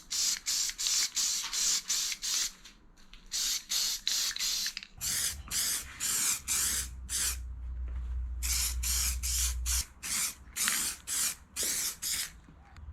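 Spray can laying a final wet coat of black paint on a gauge pod, a series of sharp close hissing bursts, each about half a second, in quick rhythmic runs with brief pauses between.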